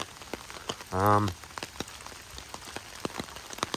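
Rain patters down at a 1930s Mediterranean-style garden estate, a steady, fairly close field of scattered drops and ticks with a brief louder tonal hum in the middle, and no voices.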